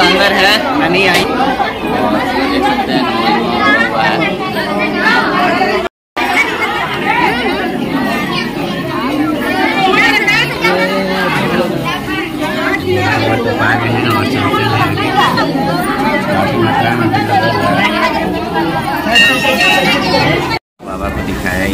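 Dense babble of a large crowd gathered at a Mahashivratri cave temple on Chandan Giri hillside near Sasaram, steady and close throughout with someone talking over it and two brief dropouts.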